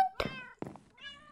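Cat meowing in the Minecraft video game, three short synthetic meows in quick succession, clear and close with silence between them.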